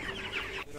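Broiler chickens, 32 days old, cluck and murmur together on a farm in a brief, faint burst of overlapping bird calls.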